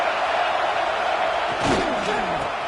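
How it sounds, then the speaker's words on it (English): A football stadium crowd roars as one continuous, loud wash of noise, swelling briefly midway through the clip as a play unfolds, with a faint voice cutting through near the end. "This crowd ready to make its presence known."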